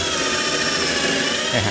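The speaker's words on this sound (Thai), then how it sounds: "เดี๋ยวเราลองเจาะดูนะครับ" A power drill bores at an angle through a drilling jig while a vacuum dust shroud draws in debris, making a loud, steady motor whine mixed with a rushing suction hum throughout a short stretch.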